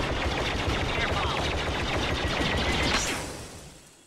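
A blaster in the game Star Wars Battlefront fires a rapid, sustained burst of sharp repeated shots for about three seconds, then cuts off and the sound tails away.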